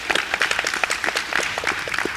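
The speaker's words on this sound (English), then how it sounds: "let's give her a round of applause." Audience applause at a community discussion on opioid addiction, a moderate crowd clapping with scattered distinct hand claps, steady and fairly near.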